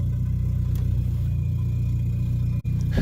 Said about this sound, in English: Dude, that turbo.